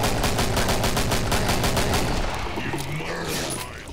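A boss in Killing Floor fires its chain gun arm, a dense, loud, rapid stream of shots that runs continuously, then eases slightly near the end.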